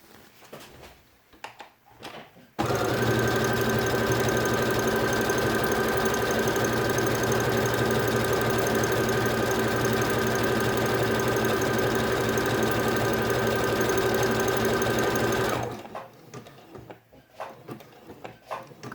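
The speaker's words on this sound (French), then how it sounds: "Et maintenant, je viens faire la piqûre." A sewing machine runs steadily for about thirteen seconds, stitching a velcro strip along the edge of a felt page binding for a quiet book. The whir and needle hum stay loud and constant, then stop, with quiet handling noises before and after.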